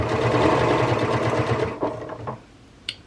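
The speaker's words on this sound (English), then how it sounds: "We do a little bit at a time as we're sewing." A sewing machine stitches fabric and nylon webbing for a durable donut-shaped dog toy, running at a steady, close, rapid mechanical clatter before slowing and stopping, with a small click at the end.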